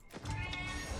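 A cat meows in the video game Becoming Saint, a single drawn-out mewing call over a sustained musical background, close and clear, with no talk.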